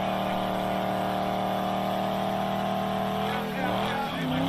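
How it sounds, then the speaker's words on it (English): A pickup truck with a dirt bike in its bed does a burnout. A loud engine holds a steady revving drone, then wavers and shifts pitch near the end, with voices talking over it. "I've always hated trucks that try to do burnouts."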